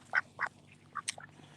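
A duck gives a few short, nasal quacks close by, spaced irregularly over a quiet background.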